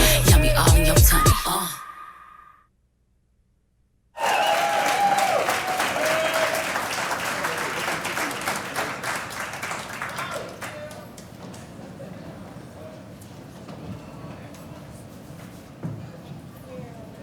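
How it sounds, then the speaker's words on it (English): An audience at a keynote event applauds after a live performance, bursting in after a brief silence and then slowly tapering off, with cheers and crowd murmur mixed in. "Let's give them another round of applause."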